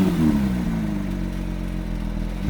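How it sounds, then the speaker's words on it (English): A Porsche 911 GT3 Touring with a stainless steel exhaust and gasoline particulate filters drones loudly and close, its engine tone sliding down briefly before holding a steady deep hum, with no talking. "it has a stainless steel exhaust system, which despite having 2 gasoline particulate filters in there, sounds predictably absolutely incredible"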